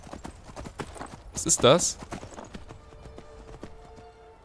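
Steady clip-clop of horse hooves in Skyrim beats under a man's speech, with a brief loud rush of noise partway through.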